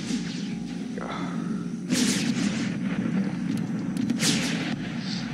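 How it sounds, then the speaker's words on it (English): Artillery firing in the video game Empire: Total War with an American Civil War mod, heard as repeated booming blasts and whooshes over a constant rumbling battle background. "Unlimber here and I guess start shooting at these guys."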